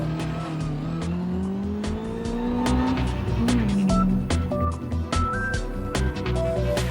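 A 1955 Maserati A6 GCS racing car on a rally stage heard from on board, its engine droning loud and close with rising and falling revs and tire squeal over the run.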